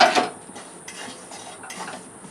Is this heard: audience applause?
no